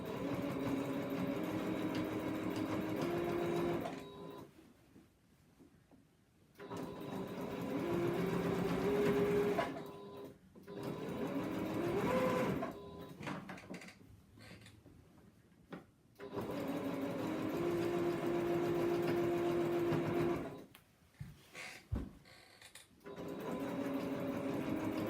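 A sewing machine with a size 16 quilting needle stitches through a quilt sandwich in several bursts of rapid, steady whirring, broken by short pauses, close and clear.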